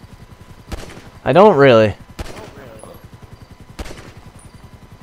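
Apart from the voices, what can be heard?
pistol gunshots in video game Grand Theft Auto Online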